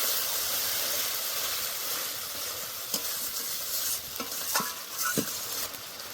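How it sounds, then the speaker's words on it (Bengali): Spices cooking down with a splash of water for a katla fish curry, hissing and sizzling steadily in the pan while a spoon stirs with a few sharp scrapes and taps, near and moderately loud. "এবার আবার একটু কষে নেব।"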